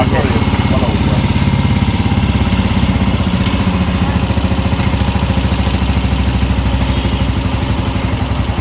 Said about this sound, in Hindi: बाइक एक ही किक से स्टार्ट हो गई और स्लो भी खड़ी हो गई, आवाज़ भी बेहतरीन हो गई